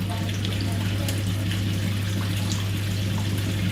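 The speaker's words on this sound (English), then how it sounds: "So I'm going to run a hot water tap." A hot water tap runs at full flow on a house with a Main Combi 25 Eco boiler that is giving no hot water, making a constant, fairly loud rush with a low hum underneath.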